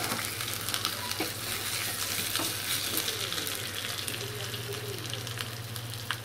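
Green chilies frying in hot oil with fennel seeds, garlic and ginger for a toor dal vegetable kootu, a steady close sizzle with occasional light stirring scrapes throughout.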